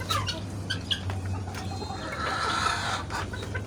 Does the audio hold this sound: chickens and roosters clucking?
yes